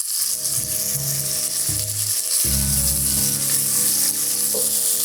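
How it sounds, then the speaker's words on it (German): Goulash meat, browned in small batches, sizzles and spits loudly in a hot pot, a steady crackling fry with a few scraping stirs and clunks. "Das Fleisch brutzeln wir jetzt an, aber schön portionsweise"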